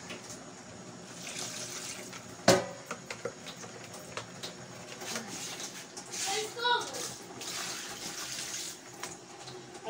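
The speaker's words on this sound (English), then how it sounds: "now you can add the quantity of water you want and allow it boil out very well" Water pours from a tap into a large pot of soup in a home kitchen, a soft steady splashing with a sharp knock partway through, while a voice and other faint talk sound in the background.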